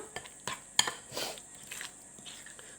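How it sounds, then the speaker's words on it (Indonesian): A spoon stirs chicken dim sum filling in a bowl, giving a few soft clinks and scrapes with a sharper tap near the start, close and quiet. "Aduk lagi sampai merata."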